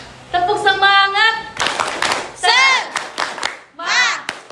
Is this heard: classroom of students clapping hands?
yes